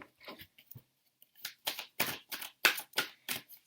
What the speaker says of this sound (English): I'm going to start by shuffling these cards.